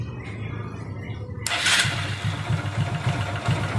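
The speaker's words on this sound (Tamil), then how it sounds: "வண்டி ஸ்டார்ட் பண்ண சொல்ல போகிறோம்." A Hero or Honda motorcycle starts on its self-starter while in gear with the clutch held, a sudden catch after a quiet moment settling into a close, steady idle.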